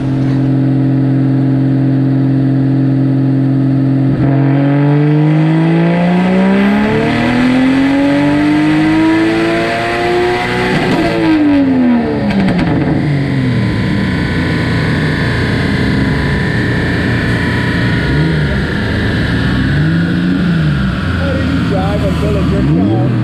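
A Nissan 240SX with a 1.5JZ engine revving on a dyno, loud engine note climbing steadily in pitch through a long pull, dropping sharply, then rising and falling again in wavering revs, close and dominant throughout.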